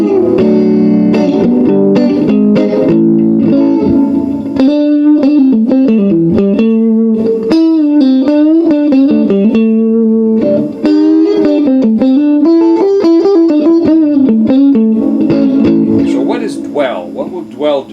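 An electric guitar plays chords and melodic lines through a Frugal Amps AB763 single-channel combo with the spring reverb turned up to 7. The playing is loud and continuous, with a lingering reverb tail on the notes.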